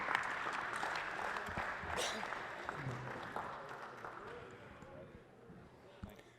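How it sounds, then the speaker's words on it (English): Applause from a basketball crowd during senior night at a UPIKE men's college game, moderate and fairly distant, fading gradually with a few sharper claps and arena noise near the end. "would you join me in a warm round of applause"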